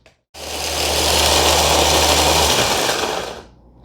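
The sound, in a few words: machine grinding dehydrated garlic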